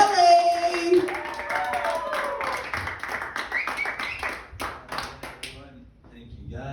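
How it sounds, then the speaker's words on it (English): A comedy club audience applauds and cheers as the next comic takes the stage, the clapping dense at first and then thinning, with a voice talking over it. "Appreciate that strong applause, believe me."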